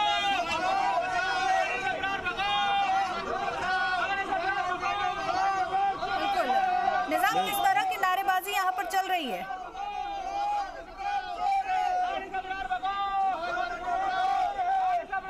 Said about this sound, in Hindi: आप देख पा रहे हैं, कुछ लोगों का प्रदर्शन है किसी पक्ष में तो कुछ विरोध में।